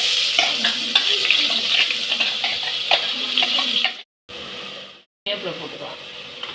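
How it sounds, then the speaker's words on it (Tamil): Cumin seeds sizzle and crackle in hot oil at close range, with light scraping, before the sound cuts out twice briefly and then resumes. "எண்ணெய் காஞ்சிச்சு. கொஞ்சோண்டு ஜீரகம் போட்டுக்கலாம்."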